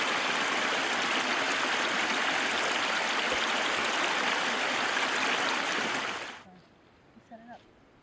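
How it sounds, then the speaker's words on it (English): Mountainside creek in North Cascades National Park rushing loudly and steadily, a dense close roar of flowing water that cuts off abruptly near the end, leaving quiet with a few faint sounds. "North Cascades Mountainside Creek ice bath."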